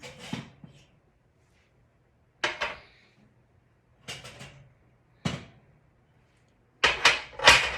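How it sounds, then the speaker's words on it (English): An oven door opening and hot glass jam jars being lifted out, heard as a string of separate knocks and clatters with quiet gaps between them. "I'm just going to get these hot jars out of the oven"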